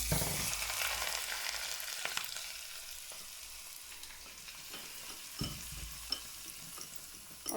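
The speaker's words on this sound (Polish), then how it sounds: "No i teraz olej już, już jest nagrzany, jest gorąco i teraz nalejemy do tego miska." Hot heated oil poured into a bowl of broccoli and mushroom salad for a Chinese dish, giving a continuous bright sizzle with a few soft clinks and stirring taps, close and alone.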